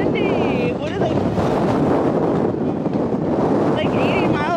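Strong gusts roar across the microphone outdoors on a windy day of kite flying, a loud, continuous buffeting rush with voices shouting briefly over it.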